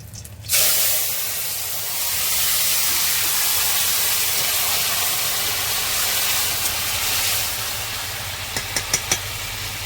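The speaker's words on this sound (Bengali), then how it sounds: "কাঁচা লঙ্কা এখন তেলের মধ্যে ভেজে দিয়ে দিচ্ছি একবারে ফোড়নের সঙ্গে" Green chillies hit hot oil with tempering spices, setting off a loud, steady sizzle that hisses continuously for several seconds, with a few faint clicks near the end.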